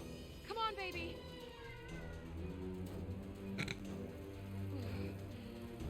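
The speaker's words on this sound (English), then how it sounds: "Cat noises." A cat meows several times inside the game Forspoken, with a few high, rising calls heard close up over quiet game ambience and some low background voice.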